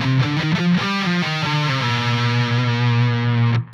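A heavily distorted electric guitar plays a solo, a rapid picked sequence of changing notes that settles into a long sustained tone before cutting off, loud and alone.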